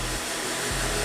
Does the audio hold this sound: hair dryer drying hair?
yes